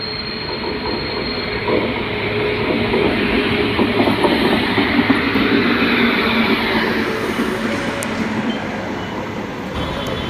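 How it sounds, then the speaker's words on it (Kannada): A train rumbles into a station, wheels clattering and brakes squealing steadily, loud and close throughout. "ಈಗ ಬಂದತ್ ನೋಡ್ರಿ ಟ್ರೈನ್"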